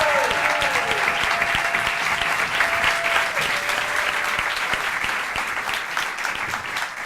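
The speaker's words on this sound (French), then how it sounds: "Je vous demande d'applaudir l'incroyable et irrévérencieux David Azencott." Theatre audience applauding comedian David Azencott on a French stand-up show, dense continuous clapping from a sizable crowd with a few tonal stage sounds, tapering slightly at the end.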